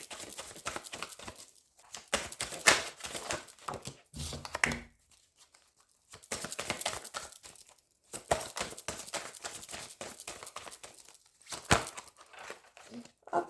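Oracle cards are shuffled for a card draw in bursts of close, crisp riffling and crinkling, separated by short quiet pauses.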